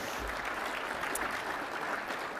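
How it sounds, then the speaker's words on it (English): A crowd applauding steadily at a business banquet, a dense wash of clapping hands that holds at an even loudness throughout. "you can clap for that."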